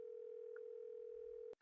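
A steady telephone dial tone from a video game phone call drones alone at an even level, then cuts off abruptly near the end.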